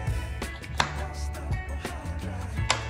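A knife chops capsicum into cubes on a cutting board, landing a string of sharp, close knocks at an irregular pace of about one every half second, with no talking.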